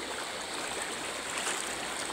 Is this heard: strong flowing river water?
yes